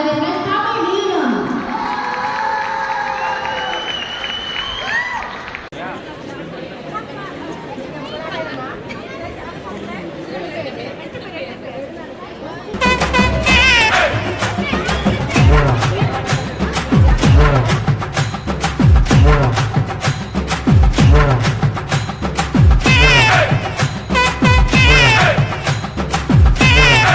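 An audience at a Tamil music and dance event in Oberhausen, Germany, cheers and chatters as a dance troupe is welcomed, then loud rhythmic clapping and whoops ring out over pounding music.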